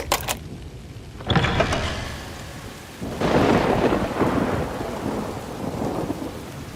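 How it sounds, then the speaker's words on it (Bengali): Heavy rain pours steadily outside while deep thunder rolls in, with two loud rumbling bursts that swell and linger over the constant downpour. "বাইরে বৃষ্টির দাপট যা বাড়ছে"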